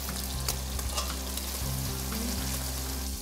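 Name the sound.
beef short ribs searing in hot oil and butter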